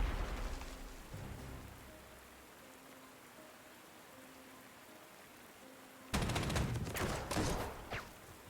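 Artillery fires in Panzer Corps: a quiet, low rumble gives way to a sudden loud salvo of crackling blasts that rolls on for a couple of seconds before easing off.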